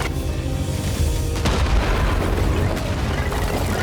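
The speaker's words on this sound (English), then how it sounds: "The vicious Charlie pulled out explosives, throwing them repeatedly in George's direction" Explosives thrown repeatedly and blowing up in an animated story, heard as continuous loud booming and rumbling blasts with a sharp burst near the middle, dense and close throughout.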